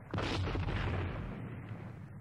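Artillery cannon fire on the Waterloo battlefield, a deep booming barrage that rumbles on continuously for a couple of seconds, loud and heavy, with no talking.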